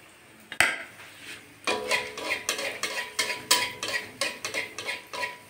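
A spoon stirs oil pitha (malpua) batter in a bowl with quick, rhythmic clinks and scrapes, a near, steady series of small knocks after one sharp tap at the start.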